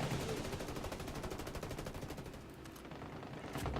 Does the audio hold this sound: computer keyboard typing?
no